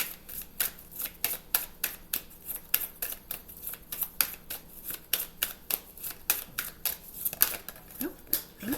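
Tarot cards being shuffled by hand, a quick run of soft papery flicks and riffles repeating close by at a steady pace throughout, quiet and without talking.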